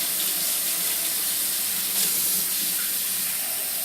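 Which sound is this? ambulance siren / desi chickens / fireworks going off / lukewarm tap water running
lukewarm tap water running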